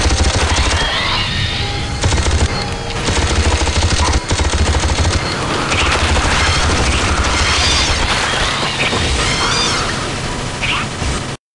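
Nearly continuous, loud weapon fire in the game AVP2: Primal Hunt, with sustained bursts and booming impacts across the whole stretch, overlapping with no real pauses.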